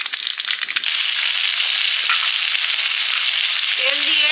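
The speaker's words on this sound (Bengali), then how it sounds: "তেল দিয়ে 5 ফোড়ন দিয়ে মূলোগুলো দিয়ে দিলাম।" Sliced radish hits hot oil seasoned with panch phoron in a home kitchen, a loud, dense sizzle that swells after a brief crackling start and holds steady, with a faint clink near the end.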